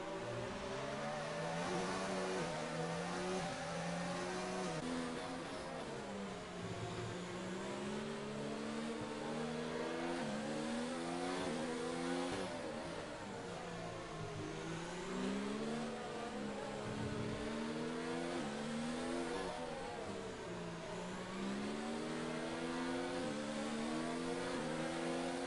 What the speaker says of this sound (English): We have the engine revving glitch from Gamez